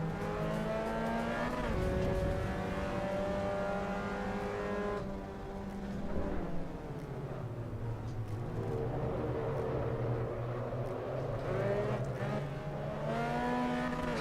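Race car in Assetto Corsa Evo held at steady revs, pitch rising through the gears with shift drops, then dropping and climbing again out of a corner, with faint tire squeal under a constant close engine tone and no talk.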